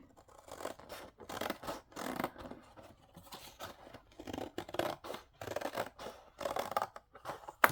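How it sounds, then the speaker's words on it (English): Scissors snip through paper while a journal cover is being trimmed, giving repeated close crisp cuts and rustles in uneven bursts with brief pauses, with no talking. "I'm going to cut this one off"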